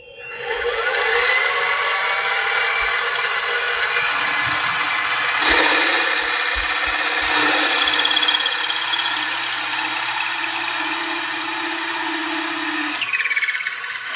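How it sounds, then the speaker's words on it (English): A milling machine with a circle cutter cuts circles from scrap material, giving a steady, loud, continuous whine with a ringing tone that runs unbroken for about thirteen seconds. No talking is heard. "I'm over here set up at the mill with a circle cutter. So we're going to use this to cut out 12 circles from this scrap."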